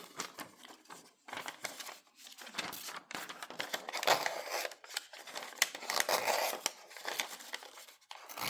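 A sharpened butter knife slices through a piece of paper, giving crisp, close rasping and tearing strokes that come in quick irregular bursts for several seconds.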